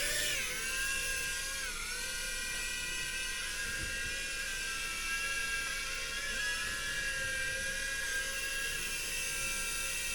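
A Holy Stone HS420 drone lifts off on auto takeoff, its small propellers giving a steady, loud, high-pitched whine with a dense buzzing hum that holds evenly and close throughout, with no talking.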